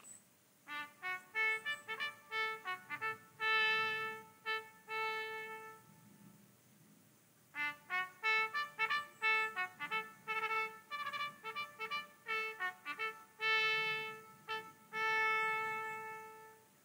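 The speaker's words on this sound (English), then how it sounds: "In this short example, you can hear how well the natural trumpet sound projects in open air." A natural trumpet plays a military signal outdoors in falling snow from about 200 meters away, its bright repeated notes and short phrases sounding distant and faint across open air, with a brief pause between two couplets.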